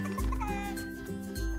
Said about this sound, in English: Here, it's a rooster.